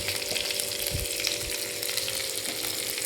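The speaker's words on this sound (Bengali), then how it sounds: "এবার এটা দিয়ে আমি একটু নাড়িয়ে চাড়িয়ে নিচ্ছি, যেহেতু পেঁয়াজও ব্রাউন হয়ে গেছে" Cabbage, green chilli and browned onions with ginger and garlic being stirred as they fry in a pan, a steady broadband sizzle with a few soft scraping strokes, close and continuous with no talking.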